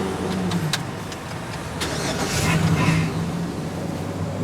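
A 2016 Buick car engine cranks with a repetitive churning starter sound, then catches briefly and runs roughly, loud and close, with light metallic clicks.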